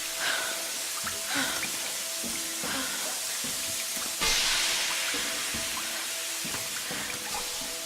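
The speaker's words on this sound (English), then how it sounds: "Steam is not funny." Steam hissing in the Tomb Raider (2017) video game, a continuous broadband hiss with sizzling texture that swells into a louder burst midway, mixed with faint clanks and tonal game sounds, with no talking.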